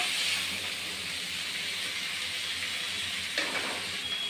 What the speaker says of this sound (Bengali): পেঁয়াজ বাটাটাকে একটু ভেজে নিচ্ছি